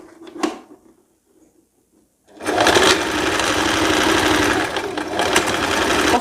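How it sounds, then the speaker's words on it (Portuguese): A sewing machine stitching the waist seam of a dress, where the bodice meets the waist. A faint knock comes first, then after a short pause the motor starts and runs in a steady, loud, continuous whir to the end. "Vai passar na máquina, costurando a parte entre a cintura e o corpinho."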